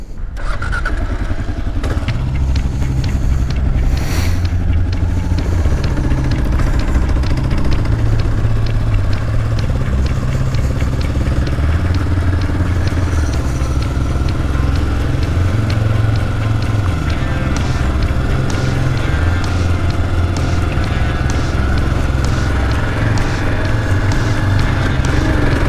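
A Kawasaki KLR 650 dual sport motorcycle engine drones steadily and loud around Cavendish, Prince Edward Island, its low rumble rising and falling with throttle and wind buffeting throughout.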